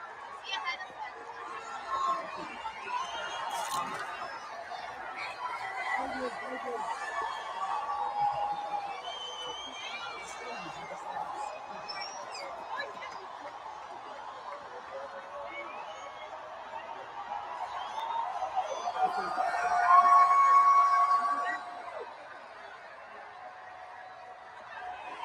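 A big crowd at a Kamala Harris rally in Georgia chatters and cheers from a distance, a steady muffled roar that swells into louder cheering near the end.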